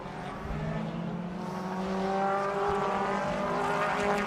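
A BTCC touring car field races out of Hislops at Oulton Park, a sustained, dense roar of several engines revving and accelerating together, steady and fairly loud, with no talking.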